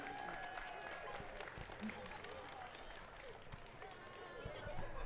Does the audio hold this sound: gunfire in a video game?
no